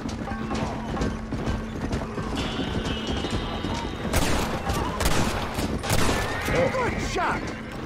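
Gunfire in the Red Dead Redemption video game: several sharp shots, mostly in the second half, mixed with horse hoofbeats, music and voices.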